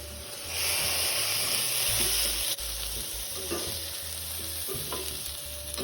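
Chicken and egg stir-fried in a wok give a steady close sizzle and hiss, with scraping stirs of a spatula against the pan throughout.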